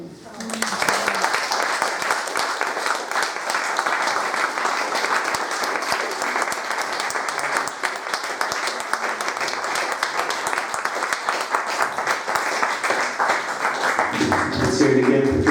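A poetry open-mic audience claps steadily and densely for about fifteen seconds, sustained applause close to the microphone, with a voice starting to speak over it near the end.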